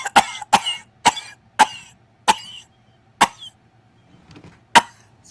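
A person with poor lungs coughs repeatedly, about eight sharp close bursts spaced irregularly, with a quiet pause and faint throat sounds between them.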